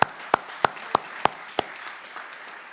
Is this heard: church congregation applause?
yes